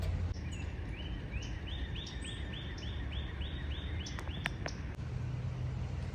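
Backyard birds at feeders in Florida, a steady series of high repeated chirps from one bird over constant outdoor background noise, a few sharper calls near the end.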